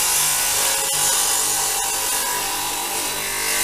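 Continuous loud whine of a Mollar TS600B table saw with a replacement blade running through wood, a steady hissing, rasping noise with no pauses and no talking.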